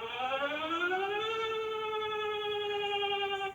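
A Denmark emergency alert siren sounds as one sustained, loud electronic tone that rises in pitch over the first second and then holds steady, rich in harmonics, before cutting off abruptly.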